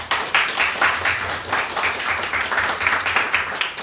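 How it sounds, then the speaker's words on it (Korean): A church congregation claps to welcome a returning member during a Sunday service, a steady roomful of overlapping handclaps, fairly loud and even, with a low hum underneath. "박수로 환영하고 다 같이 격려하겠습니다"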